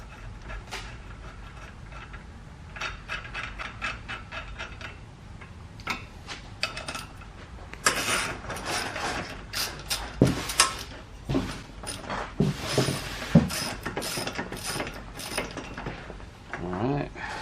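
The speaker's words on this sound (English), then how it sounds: "you'll just grab your crank arm pulling tool and you'll just screw her in real quick" A crank arm puller tool is threaded by hand into the crank of a Bakcou e-bike, giving close, light metallic ticks, clinks and scraping taps that come in irregular bursts, growing busier and louder toward the end.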